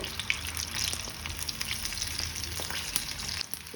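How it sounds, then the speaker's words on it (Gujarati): Paneer cheese chillies fry in hot oil with a steady, close sizzle and crackle, small pops scattered throughout and no talking. "વધારે એને ફ્રાય નથી કરવાના ખાલી ગોલ્ડન થાય ત્યાં સુધી જ એને આપણે ફ્રાય કરવાના છે"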